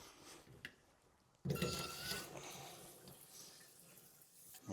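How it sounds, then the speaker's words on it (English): Tap water starts running into a bidet toilet seat's supply line, a sudden steady rushing flow that stays fairly loud and close to the end, with no talk over it. "Turn on the water."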